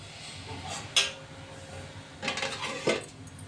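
A metal lid is set onto a pot of cauliflower and potato curry with a sharp clank, followed by a couple more softer clinks and rattles of cookware near the microphone.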